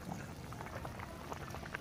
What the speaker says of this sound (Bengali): দেখুন জল ফুটে গেছে।